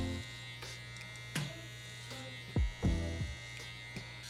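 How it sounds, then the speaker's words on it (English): Electric hair clippers buzz steadily through a drop fade haircut with a middle part, worked clipper-over-comb. A constant close, humming drone carries a few brief bumps and knocks as the clipper moves through the hair. "Why would you need clipper over comb?"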